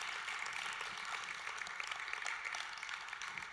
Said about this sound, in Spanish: Para servidores, le das aplauso.